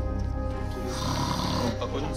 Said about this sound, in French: Il ronfle même.